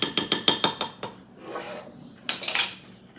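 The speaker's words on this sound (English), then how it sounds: "let's give this a stir." A spoon clinks in quick, rhythmic taps against a mixing bowl while zucchini bread batter is stirred, followed by softer scraping and a brief rustling burst; close and fairly loud.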